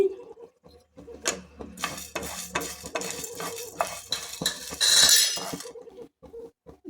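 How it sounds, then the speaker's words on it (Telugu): Coriander seeds and cumin roasting in a hot pan for a garlic and okra chutney, with repeated scraping stirs and light metallic clinks of a spatula against the pan, fairly close and with no talking. "ధనియాలు అలాగే జీలకర్ర వేసుకుని వేపుకోవాలి"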